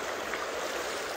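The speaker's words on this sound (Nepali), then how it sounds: "ल भिमफेदीको पानी" The river at Bhimphedi, Nepal, flows in a soft, steady rushing babble, faint and unbroken for a brief moment.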